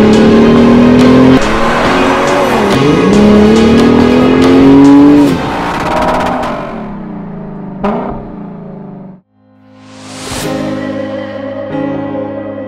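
A 2023 BMW M440i Gran Coupe engine revs hard and loud, rising in pitch through several climbs with a gear change, then drops away to a lower drone and a brief quiet before swelling again, with no talk.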